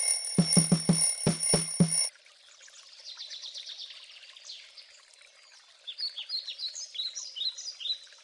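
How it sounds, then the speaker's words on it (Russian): A shrill electronic alarm beeps in rapid bursts for about two seconds, then stops, leaving soft bird chirps twittering in the background. "Будильник."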